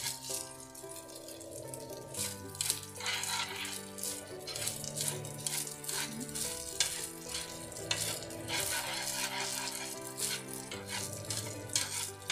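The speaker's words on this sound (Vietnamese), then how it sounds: "Bếp lên đổ dầu với là tỏi, tỏi với là gừng, rang cho vàng xong rồi đổ gạo vô rang" Rice stir-fries in hot oil with garlic, ginger and turmeric, a steady sizzle with scraping and rattling of a spatula against the pan, while music plays over it throughout.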